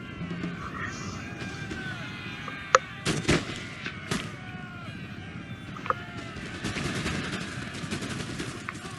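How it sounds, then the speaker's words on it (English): Scattered gunshots ring out from units firing in a strategy game battle involving German Fusiliers, with a few sharp cracks standing out over a continuous noisy battlefield background. "So that was my cue to move my units up and take shots at him."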